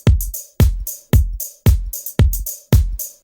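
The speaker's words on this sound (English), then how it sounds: "Let's play the original kick drum first." Kick drum from a song, heard alone: six punchy, boomy hits at a steady mid-tempo pulse, each with a sharp attack and a short ringing tail, close and loud.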